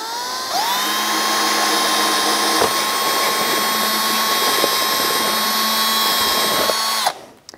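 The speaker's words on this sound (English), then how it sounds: "we're just going to drill a small hole." Small electric drill boring a hole through the back of an old camera, a steady high whine held for about six seconds, close and loud, before spinning down abruptly.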